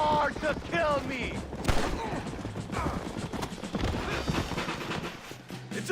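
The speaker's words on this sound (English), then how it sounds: "Stop shooting at me!" Gunfire in Red Dead Redemption crackles in scattered shots amid horse hooves, a whinny and clattering action, while voices shout over the game sounds.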